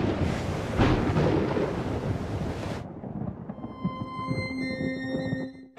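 A violent thunderstorm at sea during the 1979 Fastnet race: loud, roaring thunder and wind-driven rain wash over everything for a few seconds, then cut to a quieter, lower rumble with faint tonal ringing.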